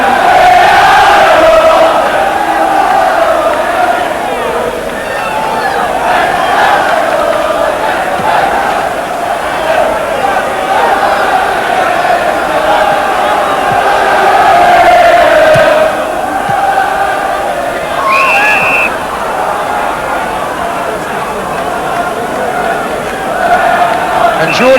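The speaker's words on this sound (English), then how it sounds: "And listen now to the crowd." A large football crowd at Grimsby Town v Millwall in 1980 roars after a goal, a dense, continuous wash of cheering and shouting, steady and loud throughout, with a few sharper whistles rising above it.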